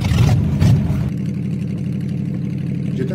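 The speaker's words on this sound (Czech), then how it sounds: "Že ten zvuk toho motoru bude moc nahlas, se mi zdá." A car engine with a torn-off exhaust runs with a steady low hum, revving briefly at the start and then settling into a constant idle.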